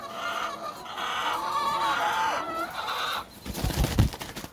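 Older chickens cluck and murmur steadily for a few seconds, with a brief burst of rustling or flapping near the end.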